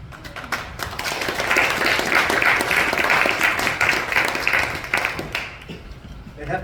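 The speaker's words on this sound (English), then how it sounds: "They have to be applauding you because I haven't done anything yet." An audience at a presentation applauds, a dense wash of clapping that swells and holds for several seconds before thinning out, with some voices mixed in.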